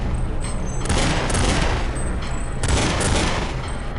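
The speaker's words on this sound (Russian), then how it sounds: "начнем, пожалуй, со стрельбы Глока" A Glock pistol fires in Counter-Strike 1.6, a dense, continuous run of rapid sharp shots and bursts, loud and close, with no voices over it.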